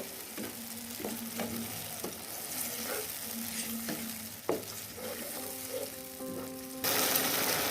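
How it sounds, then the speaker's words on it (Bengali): Bay leaves and spices with turmeric and salt being stir-fried in a pan for beef kosha bhuna, a steady soft sizzle with repeated scraping strokes of a spatula, close and moderately loud, no talking. "মশলাগুলো খুব ভালোভাবে কষিয়ে নেব।"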